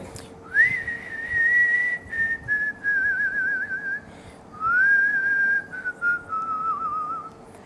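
A single person whistles a tuneful melody, the background theme from the Malayalam film Mukundetta Sumitra Vilikkunnu, in two long, wavering phrases with a short pause between, clear and close against a quiet background.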